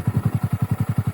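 Honda Monkey motorcycle fitted with a Yoshimura RS3 full-system exhaust and short air intake, idling close by with a steady, even single-cylinder putter of regular low pulses.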